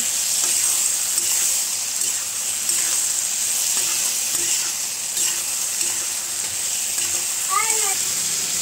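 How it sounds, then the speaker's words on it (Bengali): A paste of poppy seed, melon seed and green chilli fries in oil with a steady, moderately loud sizzle, broken by stirring scrapes and soft clinks, plus a brief high chirping tone near the end. "এবার এটার মধ্যে পোস্ত, চালমগজ আর কাঁচা লঙ্কা বাটা দিয়ে দিলাম। দিয়ে ভালো করে নেড়ে ছেড়ে ভাজে নিব একটু।"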